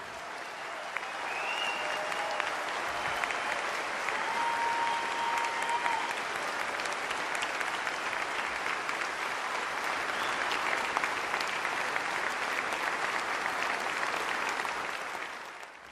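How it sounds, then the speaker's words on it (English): A large crowd at a Pearl Harbor commemoration applauds survivors and veterans in a long, sustained wash of clapping that stays steady and full for around fifteen seconds, with a few faint tones heard early on. "A grateful nation applauds you today."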